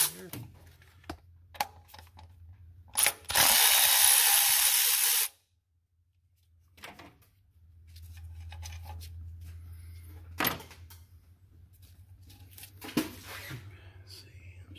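Hand tools clink and rattle intermittently on a Cummins 24-valve diesel engine during a VP44 injection pump swap, a 10 mm socket in use, with a loud burst of spray-like hiss partway through and a low hum beneath; people talk between sounds.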